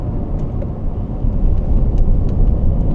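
Car engine rumbles low and steady from inside the cabin as the driver drops through the paddle-shift gears to second for a road bump, the drone swelling slightly halfway through.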